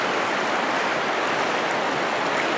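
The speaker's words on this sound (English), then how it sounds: "the river is in fact in flood" A river in flood at Lynmouth and Watersmeet after heavy rain, its rushing water a dense, steady roar filling the whole clip with no pauses.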